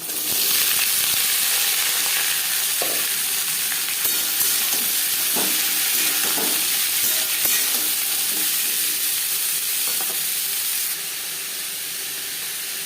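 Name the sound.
potatoes added to frying nigella seeds and chili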